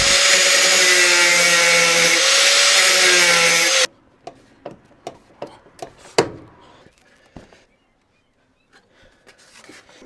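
Metal bulkhead retainer in a VW T5/T6 panel van being rocked back and forward to weaken its weld, heard as a string of sharp, irregular metallic knocks and scrapes after several seconds of loud broadband noise that cuts off abruptly.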